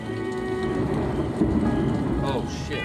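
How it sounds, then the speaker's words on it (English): Rain falls outside as a continuous hissing patter with a low rumbling swell partway through, moderately loud and steady, with faint indistinct sounds near the end. "it sounds like it's raining outside. Is it raining outside?"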